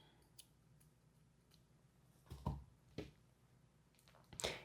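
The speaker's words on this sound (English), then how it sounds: "I'm going to cut my yarn." Scissors cut crochet yarn in a few quiet, crisp snips and clicks, spaced unevenly over a near-silent room, the last snip the sharpest.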